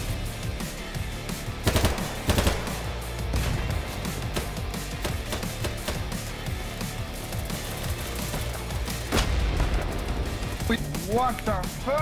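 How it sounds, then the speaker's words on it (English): Rapid automatic gunfire and scattered single shots from the video game BattleBit Remastered, bursts loud and continuous across the whole stretch, with a player voice talking over the fighting. "I can't tell where those fucking bullets are coming"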